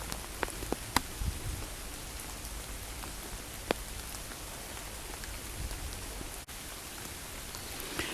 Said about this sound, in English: The hail is still coming down here, but by the time it bounces off the leaves, it turns to rain.